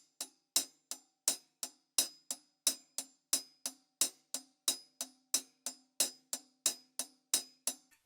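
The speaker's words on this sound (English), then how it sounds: "the hi-hat is going to count eighth notes" Steady eighth-note pattern on a hi-hat, about sixteen crisp evenly spaced strikes with a slight accent on alternating hits, close and alone with no talking.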